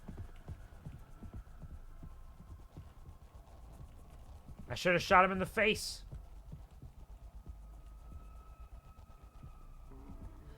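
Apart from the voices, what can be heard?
stalker's footsteps in Mouthwashing video game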